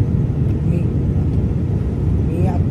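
Steady airplane cabin drone during a flight, a dense low roar filling the whole stretch without change.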